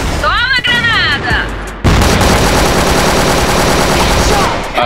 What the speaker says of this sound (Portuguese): Toma, granada!